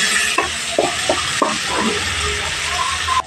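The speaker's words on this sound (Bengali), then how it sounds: "ভালো করে চিংড়ি মাছগুলো ভেজে নেব" Prawns frying in oil with a little turmeric in a pan, a steady loud sizzle with several sharp spatula scrapes and stirring clanks near the start.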